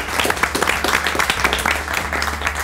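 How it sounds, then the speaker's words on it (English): A studio audience on a cooking show gives a brief, dense round of applause, with steady close clapping throughout. "Give yourselves a round of applause."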